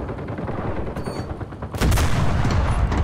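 Gunfire in the Enlisted video game during a Battle of Berlin match: a loud, dense burst of shots erupts partway through, following a quieter stretch of distant battle noise and crackle.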